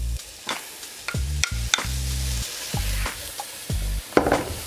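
Sweet potato and red kuri squash sautéing in a pan, a steady close sizzle broken by repeated scraping stirs and clinks of a utensil against the pan, with no talking.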